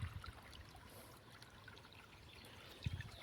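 Water from a motor pump pipe trickles into a groundnut field, a faint, steady low flow with a couple of soft splashy bumps.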